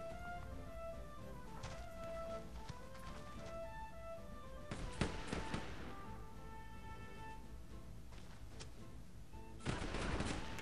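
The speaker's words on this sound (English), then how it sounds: "Oh, don't shoot us." Gunfire in the pirate video game Sid Meier's Pirates, with bursts of shots and booming cannon-like blasts heard over steady game music, one heavy cluster near the middle and another at the end.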